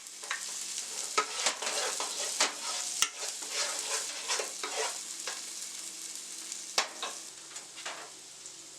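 Onions and celery sizzle softly in a pan, a faint steady frying hiss broken by occasional clinks and scrapes of stirring.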